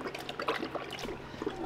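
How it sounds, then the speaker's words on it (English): A puppy lapping up drinking water, quick irregular wet splashes and slurps close by, faint and messy, with no voices. "This pup drinks water like no one's business"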